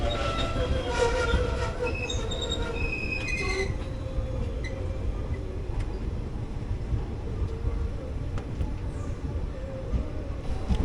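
A passenger train pulls into Paravur station in Kerala on the Kollam–Thiruvananthapuram route, heard from on board. A steady, loud rumble of wheels on rails runs throughout, with some squealing and clatter early on and no speech.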